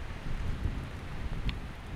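Steady rain falls in a severe storm over a chateau roof site, a dense broadband hiss with a low rumble underneath, loud and continuous throughout, with a brief brighter spatter near the end.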